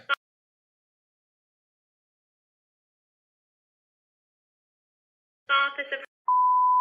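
Telephone tones while placing a call: after a long silence, a short buzzy burst of tones sounds, then a steady, clear electronic beep holds to the end.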